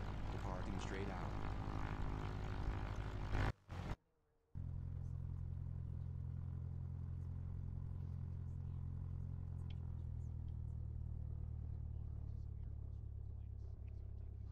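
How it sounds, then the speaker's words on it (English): Small propeller airplane departing runway 23 right on a rolling takeoff, heard from inside the cabin: a loud, steady engine drone and low rumble fills the space, broken by a brief dropout, then a constant heavy hum continues. "November 420 Alpha Foxtrot is taking off runway 23 right, departing straight out"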